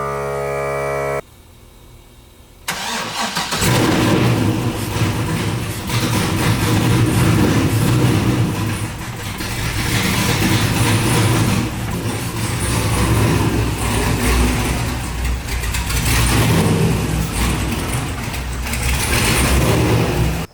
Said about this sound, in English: It's too early for this loud car.